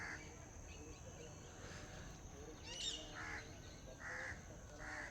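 Outdoors at sunrise, crows give several faint, spaced caws and a few brief chirps. The calls sound distant and quiet over a steady background hiss.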